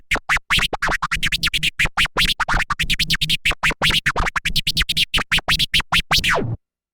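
A turntable scratch combo of chirps and crossfader transforms is played at a faster tempo, making a dense stream of quick choppy record cuts and pitch sweeps, loud and close before stopping abruptly.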